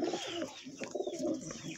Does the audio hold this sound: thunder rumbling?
no